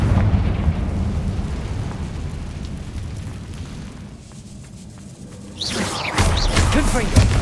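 A Confringo spell explosion in the video game Hogwarts Legacy: a loud, rumbling burst that fades to a lull, followed by a second blast with crackling, whooshing debris.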